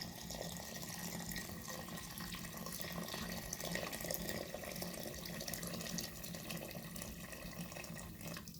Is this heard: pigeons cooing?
no